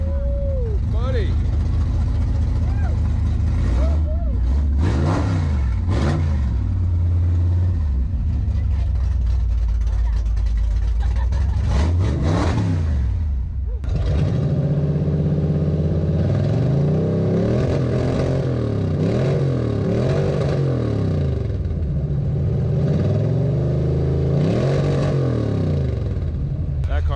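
A classic car engine revs repeatedly at an outdoor car show in Gresham, Oregon, with rising and falling roars in several bursts, close and loud, while people talk over and between the revs.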